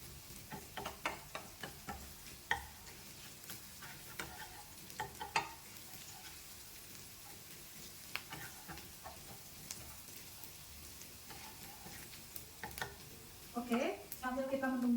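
Shallots and garlic sauté in a pan for chicken soup, giving a quiet, steady sizzle with scattered utensil scrapes and taps. A voice speaks briefly near the end.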